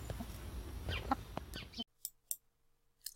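Two backyard hens kept in a henhouse at a terraced house cluck and fuss close by, a dense burst of clucks followed by a few short, separate clicky calls after a pause.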